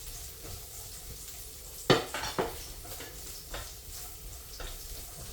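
Garlic sautéing in a pan for pansit gisado, a soft continuous sizzle close by, broken by a few sharp clinks and scrapes of a utensil stirring against the pan.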